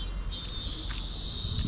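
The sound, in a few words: cicadas buzzing loudly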